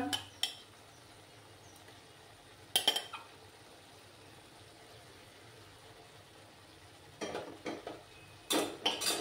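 Green beans go into a pan with spices and chili flakes, heard as scattered metallic clanks and scrapes of a utensil against the pan over a faint, quiet background, with a cluster of louder knocks near the end.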